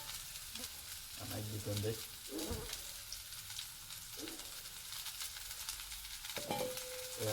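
Ingredients for manchow soup sizzle and fry in hot oil in a pan, giving a soft, steady crackle. A voice talks quietly over it now and then.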